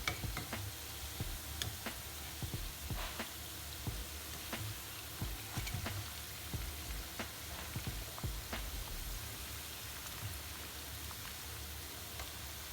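Jamaican festival dumplings frying in a pan of hot oil, giving a steady, soft crackling sizzle with scattered sharp pops, heard up close and fairly quiet with no voices.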